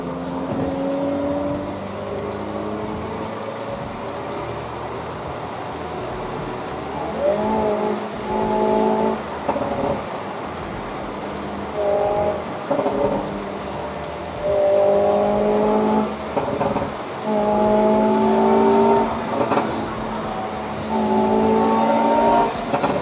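A Hyundai Veloster N with dual-clutch transmission drives along, its exhaust rising and falling through repeated accelerations and gear changes, engine tone climbing in steps with brief lifts between pulls, heard from inside or near the car.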